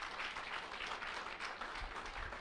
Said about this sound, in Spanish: al que brindamos un aplauso